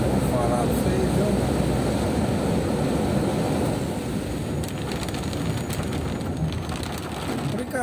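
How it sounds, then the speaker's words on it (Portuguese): Heavy rain pours in a dense, loud, continuous roar heard from a car driving through a flooded street, with the hiss holding steady throughout. "É muita chuva, gente."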